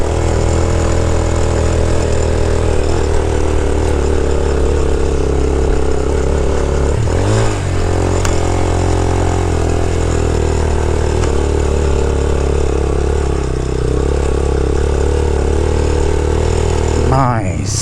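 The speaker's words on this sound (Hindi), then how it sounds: "यहाँ से लगाते हैं थोड़ी सी बाइक की जान." Yamaha YBR motorcycle climbing an off-road trail in the Margalla hills, its engine droning steadily and loudly throughout, with a brief dip midway and wind buffeting the rider.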